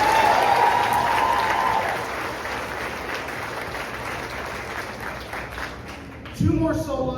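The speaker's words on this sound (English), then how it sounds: "One more round of applause for Art Chambers." Audience applause at a spring high school choir concert, a steady wash of clapping from a crowd in a hall that slowly thins out, ending with a brief rise of noise.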